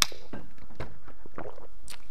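A person takes a drink of water during a live stream: a few soft, wet sips and swallows close to the microphone, with brief gaps between them and no talking.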